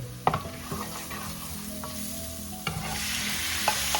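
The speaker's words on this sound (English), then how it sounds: "Then I saute the meat." Beef sautéing in a pan gives a continuous close sizzle, broken by a few sharp scrapes and knocks as it is stirred, with no voices.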